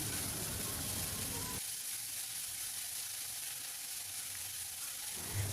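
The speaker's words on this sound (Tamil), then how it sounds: "வெங்காயம் கொஞ்சம் வதங்கட்டும், அது வரைக்கும் நல்லா வதக்கிக்கலாம்." Chopped onions for aloo paratha stuffing sizzle steadily in a pan, a soft continuous frying hiss with a brief quieter stretch in the middle and no talking.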